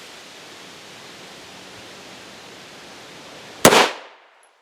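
A single sharp 9mm pistol shot fired at a Level IIIA hybrid armor panel at 10 feet, one loud crack with a brief decaying tail after a stretch of steady background hiss.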